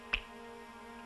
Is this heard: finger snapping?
yes